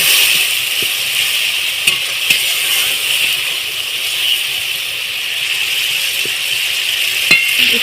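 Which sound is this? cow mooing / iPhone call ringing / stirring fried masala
stirring fried masala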